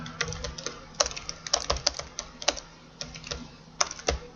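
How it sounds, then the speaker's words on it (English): Typing on a computer keyboard during an online game club session, a quick irregular patter of close, crisp key clicks in short bursts with brief pauses, no voices. "you can type a private message just to one person"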